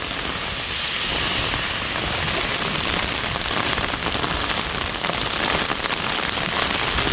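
Heavy rain falling in the early evening in rural Thailand, a dense, loud, steady hiss of drops on surfaces that continues unbroken throughout.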